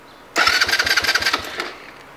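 A Chinese motorcycle engine cranks from cold, with a rapid burst of starter chugs that nearly catch and then die away, loud and close, and nobody speaking.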